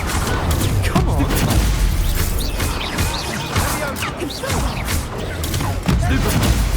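The Confringo spell blast in the game Hogwarts Legacy sits inside loud, busy combat noise, with repeated crashes and thumps across the whole stretch.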